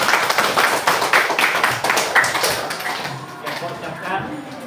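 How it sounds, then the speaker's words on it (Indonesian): Junior high school students in a classroom break into quick, crisp clapping that is busy and loud at first, then thins out and fades toward the end. "Tepuk tangan buat semuanya."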